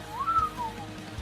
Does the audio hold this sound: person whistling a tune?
yes